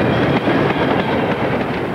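A British 9F steam locomotive hauls a heavy freight train of loaded wagons, a loud, close, continuous rolling rumble with faint rhythmic wheel clatter.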